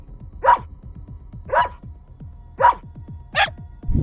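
A dog barks four times at a steady pace, loud and close, each bark sharp and clear over a low background rumble, with no voices.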